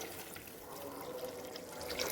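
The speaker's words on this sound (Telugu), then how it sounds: "ఇప్పుడు నేను వాటర్ పోస్తున్నాను" Water poured from a glass into a cooking pot for making upma, a quiet steady trickling stream running for about two seconds without speech.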